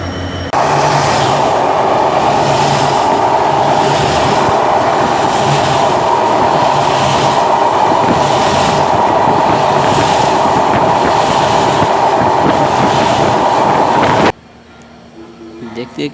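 A train running into Kamalapur railway station in Dhaka, a loud steady rumble with rhythmic clickety-clack of wheels on rails, cutting off abruptly near the end to quieter ambience.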